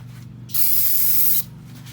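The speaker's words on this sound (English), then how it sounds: "Just clean it good, spray it down" Aerosol brake cleaner sprayed onto a brake rotor during a pad and rotor replacement on a 2012-2017 Kia Rio, one steady hissing burst of about a second, close and loud, over a low background hum.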